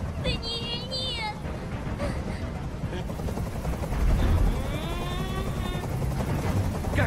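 Helicopter hovering overhead in the video game Detroit: Become Human, a steady loud rotor drone filling the scene beneath agitated voices and musical tones.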